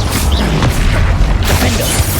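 Bombarda explosion spells from Hogwarts Legacy land as loud, booming blasts with dense rumbling crashes that continue throughout, close and heavy.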